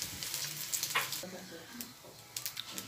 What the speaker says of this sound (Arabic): اشوح الرز البسمتي بتاعي في البهارات والسمنه لمده دقيقتين عشان يتشمع كويس